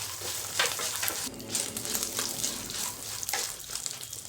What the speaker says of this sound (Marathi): मिरच्या पण छान परतलेल्या त्यामध्ये घालायचे शेंगदाणे